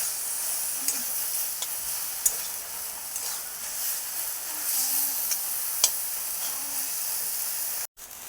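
Prawns frying in a pan with taro greens give a steady, loud sizzle and hiss throughout, with a few sharp spatters and clinks of stirring and a brief dropout near the end.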